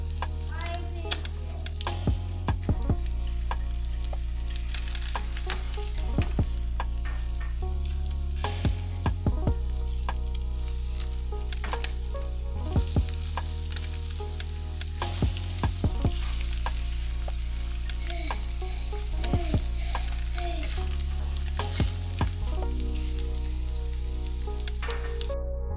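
Eggs fry in a pan during a home breakfast, giving a loud, close, continuous sizzle with crackling pops and the scrape and clatter of a utensil, while low background sounds hum underneath and no one speaks.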